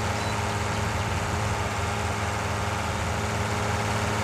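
A tractor engine in a farming game runs loudly and evenly, a heavy, low, continuous rumble with a steady hum that holds unchanged for several seconds, with no voices.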